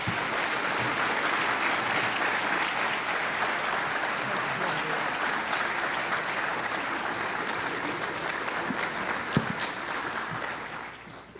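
Sustained audience applause welcoming Ambassador Thomas Pickering to a lecture, a steady dense clapping from a large crowd that holds evenly for about ten seconds before tapering off at the end.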